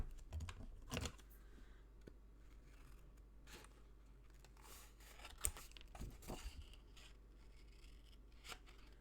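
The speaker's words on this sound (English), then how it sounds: "I'm going to trim off the corners." Scissors trimming the corners off cardstock pockets for a black-and-white Christmas album, faint close snips and paper rustles scattered over a quiet room hum, with no voices.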